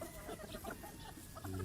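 A young rooster clucks on a farm, a few soft, close, throaty clucks in a quiet outdoor setting, with faint background ambience.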